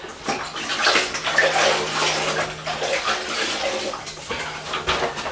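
A sponge used to clean off pre-mixed grout is rinsed in a bucket of water, giving continuous sloshing and dripping splashes at close range for several seconds with no talking.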